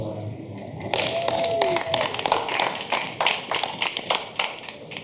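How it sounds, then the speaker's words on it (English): Audience applause at a panel discussion on cross-cultural engagement, breaking out after a second and continuing as steady, moderately loud clapping from a crowd with some individual claps standing out. "Round of applause for Wana, people."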